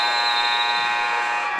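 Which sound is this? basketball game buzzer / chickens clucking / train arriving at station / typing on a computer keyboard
basketball game buzzer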